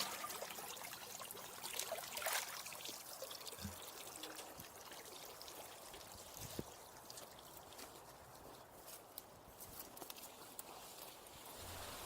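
Water poured from above around the roots of a newly planted tree in a backyard food forest, a soft continuous trickle and splash at close range with a few faint knocks and footsteps.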